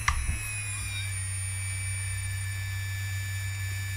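An OMPHobby M2 RC helicopter at low head speed: a steady whine of several high pitched tones over a constant low droning hum, the rotor spinning steadily, even and unchanging.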